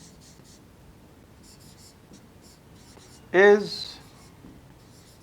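Pen or marker writing by hand on a board or page during a school geometry lesson on circles, a soft steady scratching under a teacher's voice, with a brief loud burst of speech partway through.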